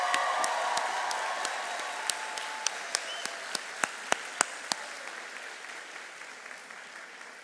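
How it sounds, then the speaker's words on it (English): An audience at a Gwynedd Mercy University commencement gives a sustained round of applause, with a dense bed of clapping and a run of sharp, evenly spaced claps from someone nearby standing out midway before the sound tapers off. "let's give them a round of applause"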